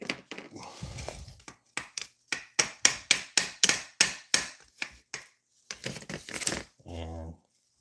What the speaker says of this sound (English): So let's put this one's nut back on and tap it gently.